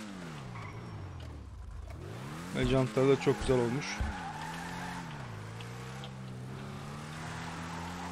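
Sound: car skidding and drifting in GTA 5 Online video game

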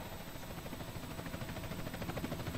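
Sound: helicopter arriving in video game Grand Theft Auto San Andreas

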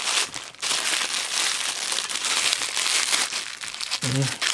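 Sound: opening a cellophane parcel package from China

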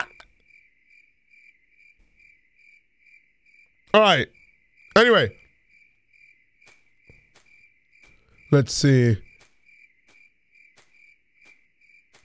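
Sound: crickets chirping at night in video game IMSCARED

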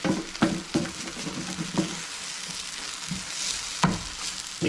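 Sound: sautéing alugbati (Malabar spinach) in a pan

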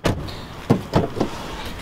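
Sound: car door being opened

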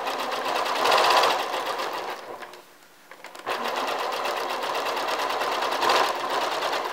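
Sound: sewing machine stitching camisole side seam

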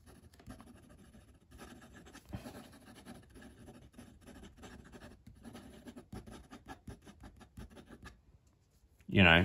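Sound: Jinhao 82 fountain pen nib writing on paper

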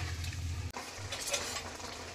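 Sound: stirring fried pointed gourd into the curry in a pan

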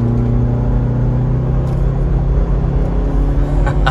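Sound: 2022 Ford Bronco accelerating hard

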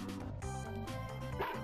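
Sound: dog barking in video game Mother 3

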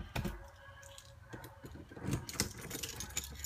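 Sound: keys jangling to unlock a door

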